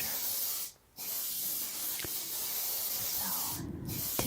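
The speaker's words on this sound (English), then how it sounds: "So, typically you would hold the spray can a little further back, but I was holding it a little close." An aerosol spray can sprays gloss varnish over a finished artwork from close range, a loud, steady hiss broken by two brief pauses.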